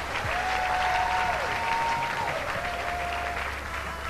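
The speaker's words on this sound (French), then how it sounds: "Acclamez très fort pour lui" An audience at a 70th birthday celebration applauds loudly and continuously for a guest, a dense wash of clapping with a faint tone running through it.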